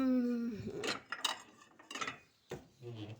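Plates and dishes clatter and clink in short bursts as they are set out for serving grilled hot dogs, with some talk in between.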